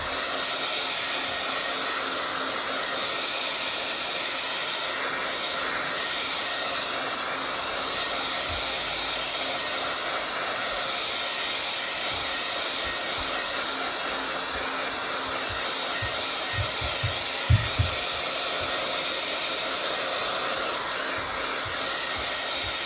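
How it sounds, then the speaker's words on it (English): A hair dryer blows steadily to dry wet black paint on a sunset tree swing painting, a constant loud whoosh running unbroken throughout with a couple of faint knocks near the end. "I'm gonna blow dry just to speed up the process."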